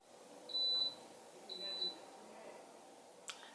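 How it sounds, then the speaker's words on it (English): A Ramtons dishwasher signals the end of its cycle with two clear electronic beeps, each about a third of a second long, over a faint room background, followed by a brief click. "So it beeps a few times and then it shows you end."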